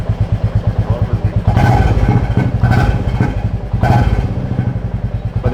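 Royal Enfield Classic 350 Reborn motorcycle fitted with an aftermarket silencer, idling close by with a steady, deep thumping beat and a few brief swells in loudness.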